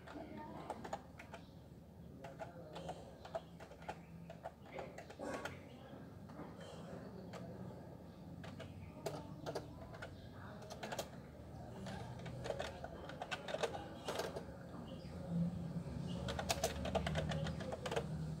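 Quiet, steady clicking of keys as someone types on a computer keyboard, continuing throughout at a low level.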